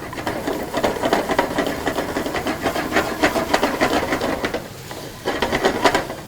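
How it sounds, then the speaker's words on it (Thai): Steady sizzling and crackling of shallots stir-frying in leftover bacon fat in a pan, with scraping stirs and brief pauses, close and continuous. "กับน้ำมันที่เหลือจากการผัดเบคอนครับมาผัดหอมครับ"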